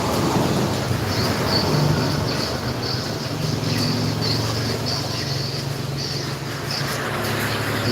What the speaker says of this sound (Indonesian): Sudah hujan guys, ini sudah hujan